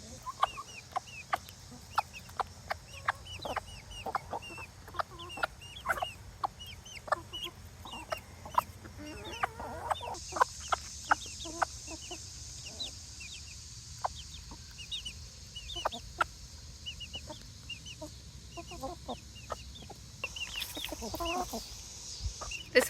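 A broody mother hen clucks close by in a steady, uneven run of short calls, while her chicks peep in quick high bursts throughout, with no talking.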